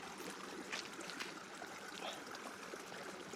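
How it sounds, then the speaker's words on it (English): A river stream flows at a hiking crossing near Grover Hot Springs, a continuous close rush and trickle of water with no talk. "Oh, we got a river crossing."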